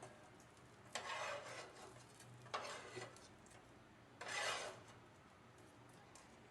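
Roasted poppy seeds being scraped out of a pan in a home kitchen, three separate rasping scrapes, close and fairly quiet, with short pauses between.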